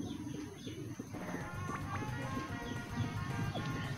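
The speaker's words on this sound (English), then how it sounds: "And a crow guarding the cave." A bird calls several times in the Aveyond role-playing game, a crow guarding a cave in Wildwood Forest, its short cries set against a dense, steady bed of game music.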